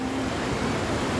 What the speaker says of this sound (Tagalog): Tsaka dagat.